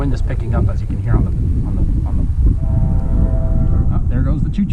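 A sugar cane train sounds its horn in the distance as a few steady tones over strong wind noise, heard outdoors near a model aircraft flying site.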